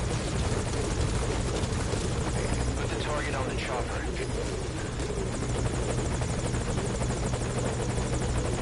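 Helicopter rotor drone in the stealth video game Metal Gear Solid V: Ground Zeroes, a loud steady beating roar that fills the whole stretch without letting up.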